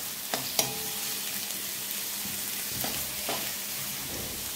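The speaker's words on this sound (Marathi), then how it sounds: "कांदा आपल्याला छान लालसर होईपर्यंत परतून घ्यायचा आहे" Chopped onions sauté in a pan for a dry soybean-chunk curry, a soft steady sizzle with a few faint stirring scrapes and knocks near the start, no voices.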